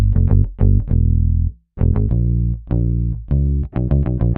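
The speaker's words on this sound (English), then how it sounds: "I next added in the bass" A punchy, distorted bass line with bouncy, syncopated notes, some held and some short, with a brief gap partway through, loud and up front.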